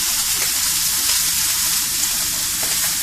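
Steaks searing in a hot pan, thick cuts giving a steady, dense sizzle and crackle that stays loud and even from start to finish, with no talking over it.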